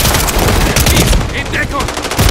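Rapid machine gun fire rattles in Call of Duty: Modern Warfare 3, loud and continuous bursts of gunfire filling the whole moment alongside other battlefield noise.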